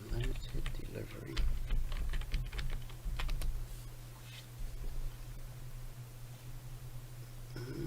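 Rapid clicking keystrokes on a computer keyboard during a live trading session, dense at first and then thinning to sparse taps, with speech partly overlapping.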